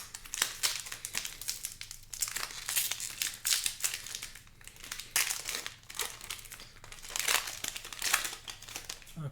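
Foil wrapper of a Magic: The Gathering Ikoria draft booster pack crinkled and torn open up close, a steady run of crisp crackling and rustling bursts with no talking.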